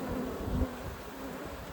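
Africanized honey bees humming steadily throughout a hive check, a dense continuous buzz with a brief louder swell near the start, no talking.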